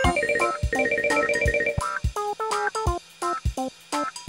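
Cartoon telephone ringing in a musical, toy-like pattern, a rapid run of bright electronic rings followed by bouncier ringtone notes, loud and alone with no talk.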